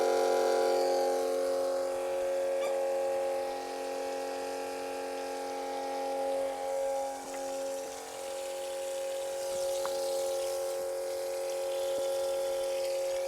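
A DeWALT 20V Max transfer pump runs steadily as it pumps water, giving a constant motor whine with a bright tonal hum and rushing water, with no talking.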